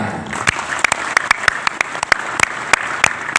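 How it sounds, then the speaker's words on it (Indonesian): Audience clapping in unison at a religious gathering, a steady patter of many hands punctuated by sharp, regular louder claps, close and fairly loud with no talk over it. "Tepuk tangan."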